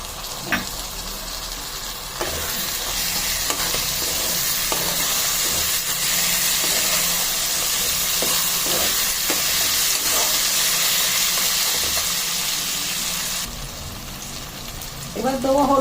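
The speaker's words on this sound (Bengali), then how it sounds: "আবারও আদা রসুন দিয়ে ভালো করে ভেজে নেব। এবার এতে দেবো টমেটো।" Tomatoes frying with ginger and garlic in a pan, a loud steady sizzle and hiss with occasional stirring clinks, continuous for most of the stretch before easing near the end.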